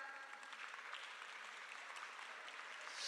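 An audience in a children's museum applauds a mural team, steady sustained clapping from many hands filling the room, swelling slightly at the end.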